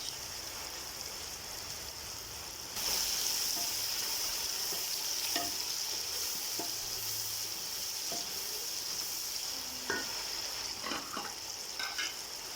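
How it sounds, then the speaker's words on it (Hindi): Whole cumin seeds hit hot oil with a sudden loud sizzle, settling into a steady crackling hiss with scattered pops and light stirring knocks, no voices over it. "इसमें डालने लगी जी अब साबुत ज़ीरा 1 चम्मच"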